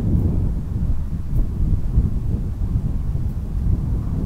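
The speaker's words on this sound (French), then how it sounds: "Le vent souffle." Wind blows in steady, low rumbling gusts, loud and close, buffeting the microphone without a break.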